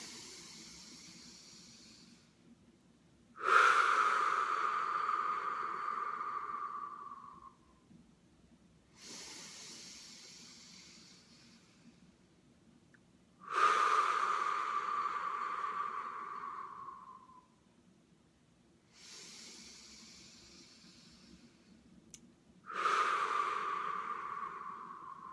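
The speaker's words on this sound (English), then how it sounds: "Inhaling through the nose and then out through the mouth." A group breathes together in a guided session, drawing in slowly through the nose and releasing audibly through the mouth. Long airy exhales swell and fade in a steady cycle, four or five breaths in all, with no talking.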